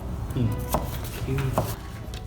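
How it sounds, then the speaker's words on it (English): A knife chops celery on a cutting board, a few sharp knocks in an uneven rhythm with a faint clink of utensils, close and clear, no talking. "you're going to get your celery, you're going to rinse it, and then you're going to chop it up like so"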